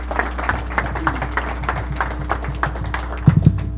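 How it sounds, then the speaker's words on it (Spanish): A modest scatter of hand claps greets an engineer coming to the podium at an evening presentation, sparse and fairly light over a steady low hum from the room's sound system. "Démosles la bienvenida, o démosle la bienvenida al ingeniero con un fuerte aplauso."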